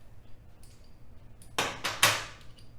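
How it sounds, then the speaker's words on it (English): A 5/8 ratchet works the primary drain plug loose on a 2001 Harley-Davidson 1200 Sportster, giving three sharp close metallic clicks in quick succession after a quiet pause. "Got a little 5/8 ratchet action going on here."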